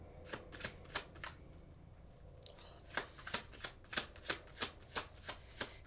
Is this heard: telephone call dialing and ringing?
no